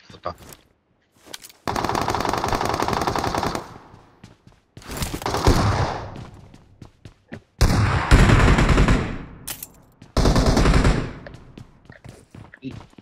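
Several long bursts of rapid automatic gunfire in a video game on the Erangel map, loud and close, separated by brief gaps with a few scattered single shots.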